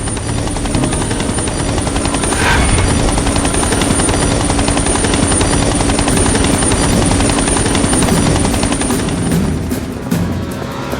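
A helicopter drones steadily and loudly overhead for the whole stretch, its dense rotor and engine roar unbroken from start to finish, with no voices over it.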